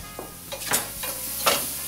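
Food frying and sizzling in a cooking pot on a kitchen show, with bursts of crackling sizzle and stirring scrapes recurring every half second or so, close and clear with no talk.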